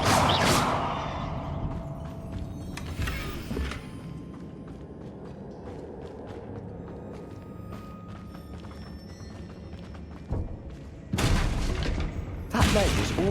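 Confringo spell explosions in Hogwarts Legacy, a loud opening burst and another blast soon after, then a stretch of quieter rumbling before two more heavy booms near the end, with speech mixed in.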